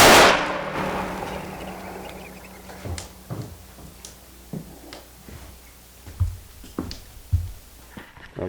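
A single rifle shot at a whitetail doe on a hunt cracks loud and close, then rings out and decays, followed by scattered faint knocks and rustles in the quiet woods.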